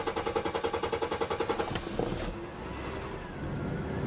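An older car at an auction yard cranks over in a rapid, rhythmic starter chatter, then catches and settles into a steady idle, heard up close with no talking.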